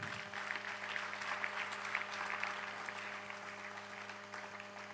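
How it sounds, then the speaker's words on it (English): An audience at a school Founders' Day celebration applauds a speaker, a steady, moderately loud patter of many hands clapping over a faint steady hum. "Let's give him another round of applause"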